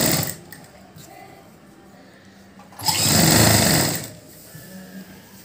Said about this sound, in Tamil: அரை இன்ச் அளவுக்கு நம்ம தையலுக்கு எவ்வளோ விட்டோமோ அதே அளவுக்கு அப்படியே தச்சுட்டே வர்றோம்.